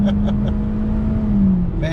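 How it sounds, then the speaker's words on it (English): A 2021 Hyundai Elantra climbs a snowy mountain hill at full throttle. Its engine gives a steady, loud droning hum inside the cabin, holding one pitch for two seconds. "Here we go, over the hill, full throttle."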